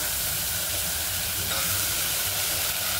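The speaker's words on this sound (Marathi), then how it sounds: "त्याच्या आधी आपण फोडणी देणार" Spices tempering in hot oil for pav bhaji, a loud, steady broadband sizzle and hiss filling the whole stretch close to the pan, with no talk.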